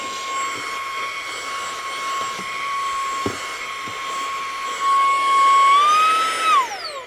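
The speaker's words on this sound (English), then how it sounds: "I'll do a quick demonstration using this as a vacuum" SEESII 3-in-1 portable tire inflator run as a vacuum with its regular attachment, giving a loud, steady motor whine with a high tonal hum nearby, which swells briefly and then winds down near the end.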